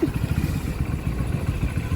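A motorcycle engine putters close by with a low, pulsing, steady rumble and faint clatter, being parked at a college entrance; no speech is heard.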